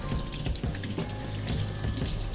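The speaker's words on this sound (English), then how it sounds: "Rinse it under water." Tap water runs steadily into a kitchen sink while green onions are rinsed, a close, continuous splashing stream with shifting spatter as the stalks move under it.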